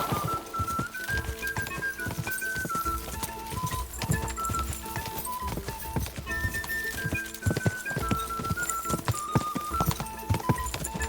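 A horse gallops in Kingdom Come: Deliverance II, a steady, rhythmic clatter of hoofbeats joined by a melodic tune with plucked notes, all close and continuous, with no talking.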